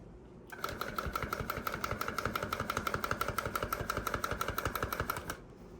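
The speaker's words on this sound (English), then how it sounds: "I turned the gun off to put in the yellow yarn, and I turned it back on" A Clawlab tufting gun runs steadily for about five seconds, a fast, even mechanical buzz with a rapid pulsing rhythm that starts and stops abruptly, close and fairly loud with no talk over it.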